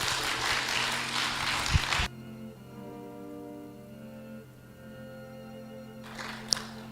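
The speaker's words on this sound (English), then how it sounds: "Let us give him a big round of applause." Audience applause at a Sunday Dharma service, honoring a man just given his Dharma name: dense, steady clapping for about two seconds that cuts off sharply, leaving a quiet room with faint hum and a brief noise near the end.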